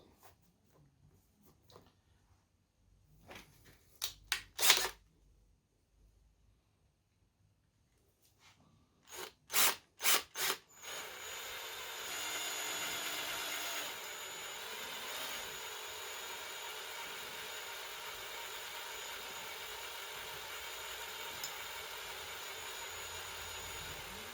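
A hole is cut into a Harley-Davidson Fat Bob fuel tank panel: a few sharp knocks and taps come first, then a steady, continuous grinding cut runs close and fairly loud through the second half, with no talking.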